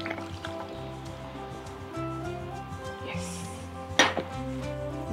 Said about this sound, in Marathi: यामध्ये घालते मी गरम पाणी